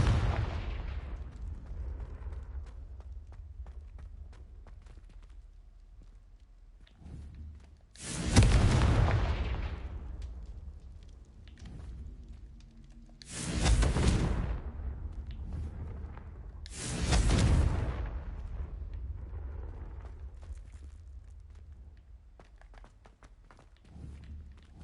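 Confringo spell blasts in Hogwarts Legacy, three loud booming explosions spaced several seconds apart, each with a sharp onset and rumbling decay, over quieter footsteps and ambient game sound.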